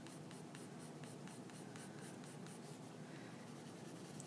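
A 4B pencil shades on paper in quick, rhythmic curved strokes, producing a soft, steady scratching close by with no voices.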